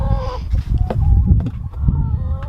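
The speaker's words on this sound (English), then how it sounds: "I have 5 chickens in each box" Five chickens cluck and squawk inside a moving box during a car drive, close and busy, with muffled bumping and rustling underneath.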